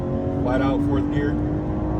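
A BMW G30 540i tuned to 530 hp runs flat out in fourth gear on the Big Tujunga canyon road, its engine a loud, steady, close drone layered with road and wind noise.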